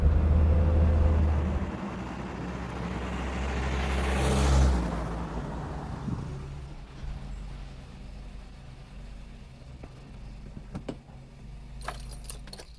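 A 1972 Peugeot 504 drives past, its engine note rising to a loud peak then fading as it downshifts and brakes, leaving a low idle-like rumble with faint clicks near the end.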